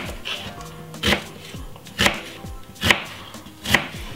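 Knife chopping a white onion on a board, four sharp, fairly evenly spaced thuds close by over a low room background, with no talk.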